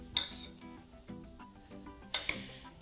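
Sliced strawberries are stirred with sugar in a bowl, giving a few light clinks of a utensil against the dish spread over a few seconds, with soft movement in between.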